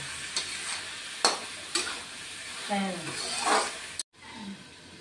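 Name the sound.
sautéing ash gourd with spices in a pan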